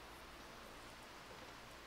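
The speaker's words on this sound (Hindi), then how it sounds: "आई एम सॉरी बाहर बारिश हो रही है" Steady rain falling outdoors, heard as a soft, continuous hiss of drops with no breaks, faint and distant from indoors.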